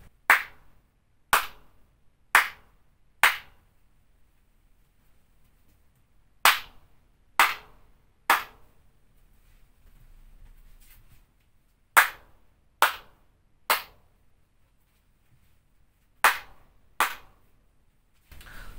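Single handclaps in spaced groups of three or four in a room with bare flat walls and no acoustic panels, each sharp slap trailing into a short room echo, with quiet pauses between groups.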